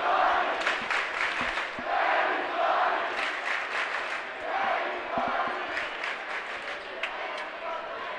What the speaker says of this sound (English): the patented chants from these two crowds going back and forth